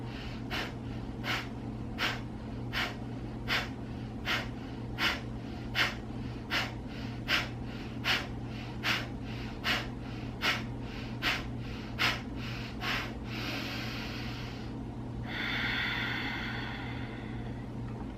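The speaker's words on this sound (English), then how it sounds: "So we're simply forcing the exhale out of our nose and allowing the inhale to happen passively." Sharp, forceful nasal exhales repeat in a quick, even rhythm, about one per second, close and clear, ending in a longer, softer breath.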